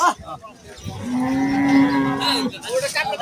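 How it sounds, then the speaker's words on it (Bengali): A large Sahiwal cow at the Rajshahi city cattle market gives one loud, sustained moo, close by and clear, with brief crowd noise before and after it. "চমৎকার একটা গরু দেখেন।"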